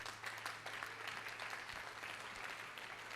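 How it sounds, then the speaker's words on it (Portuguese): A church congregation claps steadily throughout, a dense, even wash of hand claps with no voices over it. "dê uma linda salva de palmas a Jesus"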